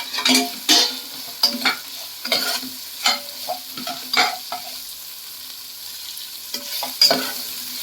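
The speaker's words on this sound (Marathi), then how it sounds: "आता आपण ह्याच्यात उभा उभा चिरलेला कांदा टाकणार आहोत. तो पण आपण छान परतून घेणार आहोत." Sliced onion frying in hot oil with green masala paste over medium heat, stirred with repeated scraping strokes across the pan over a soft, steady sizzle, close and alone.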